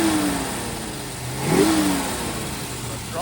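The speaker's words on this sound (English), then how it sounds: "We'll give it a couple revs." A 1969 Ford Mustang Boss 429 with matching-numbers engine idles and is revved once, the engine note rising and falling near the middle, close and loud without voices.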